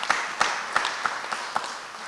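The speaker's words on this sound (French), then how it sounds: "Applaudissez la présence du Seigneur." A church congregation at a Sunday service claps in a slow, even rhythm, with sharp, evenly spaced claps over a soft, hissy background, fairly faint and distant.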